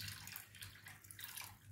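Water runs and splashes into a container during a measuring step in a lab-style test of air conditioner water, a soft continuous trickling wash at low level, no talking over it.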